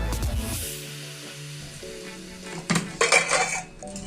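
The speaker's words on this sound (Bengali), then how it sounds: "আমি এখন প্রেসার কুকারের থেকে তুলে নিচ্ছি।" Boiled mutton lifted out of a pressure cooker: a quiet kitchen hum, then a cluster of metal clinks and clanks of a spoon against the pot near the end.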